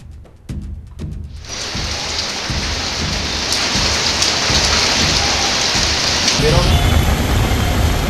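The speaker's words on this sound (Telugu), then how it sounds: "సికింద్రాబాద్ లో పలుచోట్ల వర్షం కురుస్తోంది" Heavy monsoon rain pours steadily in Secunderabad, Hyderabad, a dense loud hiss that builds in after a few scattered drops and keeps going without a break.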